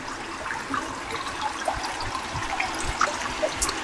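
Water trickling over small stones in a little waterfall feature at a guesthouse near Negombo, giving a steady, close splashing trickle with no talking.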